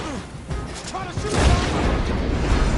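Gunfire and a heavy blast in Red Dead Redemption 2 during a roadblock fight, with booming impacts building into a loud rumbling crash after a short stretch of voices.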